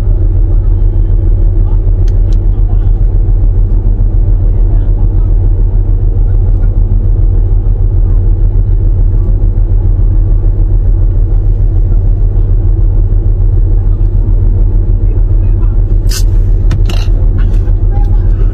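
A car engine rumbling close by, a loud, steady low drone throughout with a few sharp clicks near the end and faint voices underneath.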